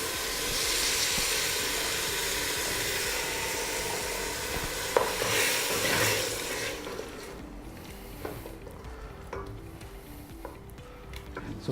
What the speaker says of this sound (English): The sauce is beginning to boil. You can hear it again.